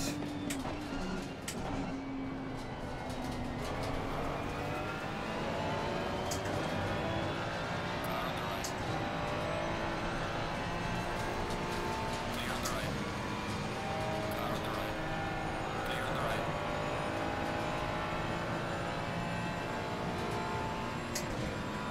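Race cars under way at Watkins Glen, a steady loud engine drone with rising and falling pitch sweeps as cars accelerate and shift, continuous throughout with a voice faintly present.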